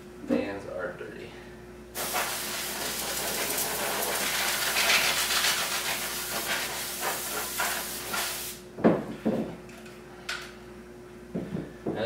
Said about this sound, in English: Let's blow these fans out.